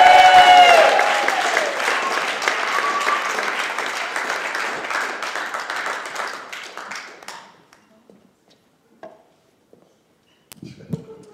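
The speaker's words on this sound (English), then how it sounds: "Big round of applause for Ken Krantz." A comedy club crowd at Gotham Comedy Club in New York claps for comedian Ken Krantz, loud at first and tapering over about seven seconds into near silence, with a few faint noises after.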